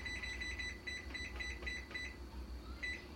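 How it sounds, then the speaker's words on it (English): An oven timer being set gives quick, rapid electronic beeps in short bursts, then a brief pause and one more burst, close and fairly faint over a low background hum. "we're going to set the timer there,"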